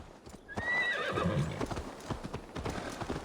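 Rhythmic hoofbeats of a galloping horse in Assassin's Creed Valhalla, up close, with a loud whinny partway through.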